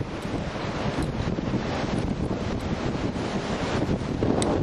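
Strong gusty wind at a beach buffets the microphone, giving a loud, continuous roar with a surf-like rumble underneath that swells slightly toward the end, with no voices.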